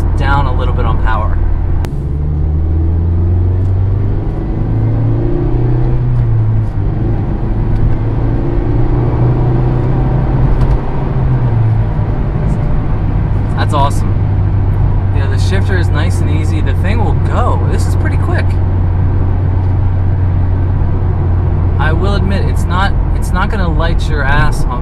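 A 2017 Mazda Miata RF cruising on back roads, its engine a steady low hum and rumble with road noise that stays constant throughout, while a person talks over it.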